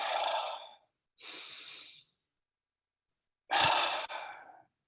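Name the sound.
deep breathing during guided relaxation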